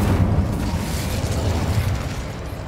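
A fire spell is cast in Hogwarts Legacy, producing a loud, continuous roaring blast of flame with heavy low rumble and crackling texture, fading slightly toward the end, no speech.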